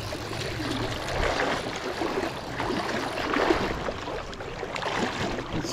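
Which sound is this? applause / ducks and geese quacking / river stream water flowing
river stream water flowing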